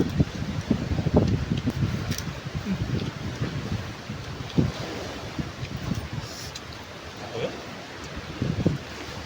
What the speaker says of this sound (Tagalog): lakas ng hangin dito sa amin